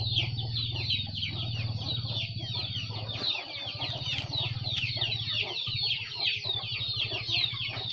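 Bangkok game chickens cluck and squawk busily at feeding time, fed a bran mash mixed with cassava leaves; the calls are dense, overlapping and close, with a steady low hum underneath throughout.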